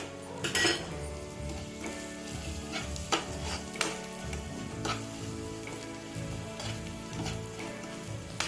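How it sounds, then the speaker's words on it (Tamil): Sautéed tomatoes with chili and turmeric powder being stirred in a pan, a continuous sizzle under repeated spoon scrapes and clinks against the pan, close up, with no talking. "இதை நல்லா கிளறி விட்டுட்டு கழுவி வச்சிருக்கிற சிக்கனை சேர்த்திக்கலாம்"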